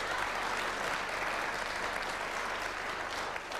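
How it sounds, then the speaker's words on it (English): A studio audience at a televised political debate on Iraq applauds steadily, a continuous wash of many hands at moderate loudness with no talk over it. "The questioner seems to be applauding that."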